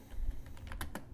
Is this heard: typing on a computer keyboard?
yes